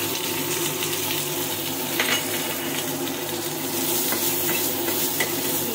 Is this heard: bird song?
no